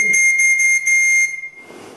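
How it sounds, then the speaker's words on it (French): A steam whistle on a coal- or charcoal-fired model beam engine gives a shrill, steady tone for over a second, pulsing slightly, then cuts off into soft hiss. "Voilà, elle a son sifflet,"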